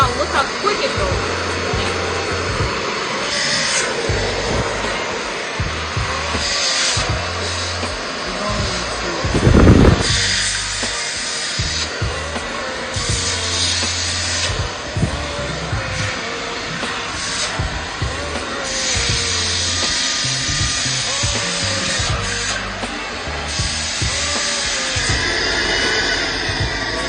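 A PRETTYCARE cordless vacuum cleaner runs at power level 3 with a loud, steady whirring roar that holds throughout, swelling briefly near the middle.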